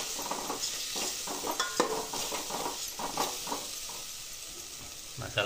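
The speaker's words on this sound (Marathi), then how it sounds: "मसाला चांगला परतलाय." Maggi masala sizzles and sautés in a pan for sprouted matki rice, with steady scraping stirs and soft clinks close up, and no voices.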